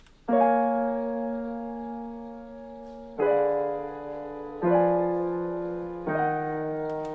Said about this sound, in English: That's how you hear that little motor like noise sound in the background